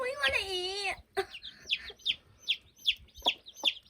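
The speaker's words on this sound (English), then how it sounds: "You're a good chicken, Mama." A farm chicken gives a long drawn-out squawk, then a rhythmic series of short, close clucks, about eight of them in quick succession.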